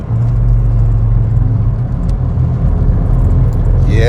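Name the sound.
Ford Escort driving uphill at 50 mph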